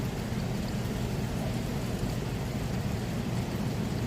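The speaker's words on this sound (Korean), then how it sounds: "창밖엔 조용히 비가 내려요." Quiet rain falls outside a window, a steady, soft, even hiss with no distinct drops or other sounds standing out.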